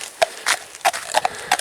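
A horse led in hand by a person steps along, its hooves landing in several irregular clip-clop thuds, close by and moderately loud, with short quiet gaps between steps.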